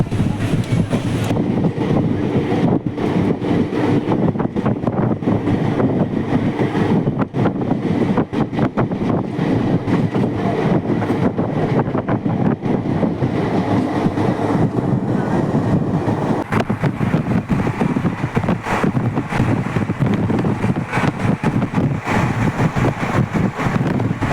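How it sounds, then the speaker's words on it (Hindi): A general-class passenger coach rolls along the rails in India, a steady loud rumble with continuous rattling and clatter from the carriage, heard from inside, unbroken for the whole stretch with no talk. "ट्रेन निकल गई है, बट थोड़ी लेट हो गई"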